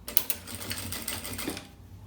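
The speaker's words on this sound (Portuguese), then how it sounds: "E agora eu passo a costura aqui, juntando esse forro no meu principal." A sewing machine stitches the lining into the main body of a children's bag: a quick, rapid run of rhythmic mechanical clicks that fades out after about a second and a half, with no voice.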